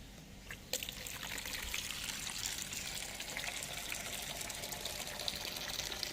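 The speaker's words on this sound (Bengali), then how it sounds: "গাছগুলো একটু জল দিয়ে দিই" Water poured onto garden plants in the bright morning sun: a steady close stream splashing and trickling without pause after a faint start, no voices.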